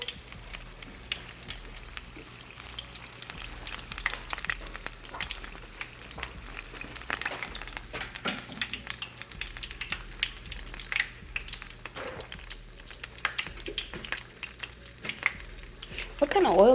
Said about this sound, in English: fry your balls in any oil you please. I'm using canola